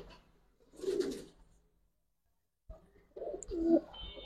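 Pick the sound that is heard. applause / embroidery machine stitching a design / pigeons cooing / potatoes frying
pigeons cooing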